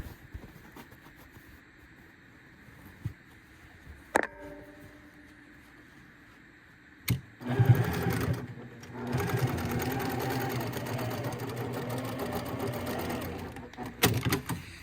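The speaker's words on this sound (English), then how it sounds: "Let me sew this other corner like I should have done already." A sewing machine stitches the corner of a fabric tissue-box cover shaped like a Monopoly house. A few faint clicks come first, then a steady, close motor whir runs for several seconds before stopping.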